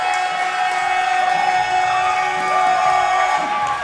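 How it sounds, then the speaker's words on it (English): Crowd cheering after a match at a Mid States wrestling event, with steady loud whooping and shouting from the audience filling the arena without a break. "I don't know why these people are cheering."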